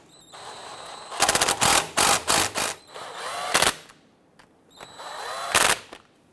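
A power tool snugs down bolts on the rear axle of a 2006-2010 Hummer H3 during an axle seal replacement, firing in loud close rattling bursts, a quick cluster of several pulses followed by two more separated bursts.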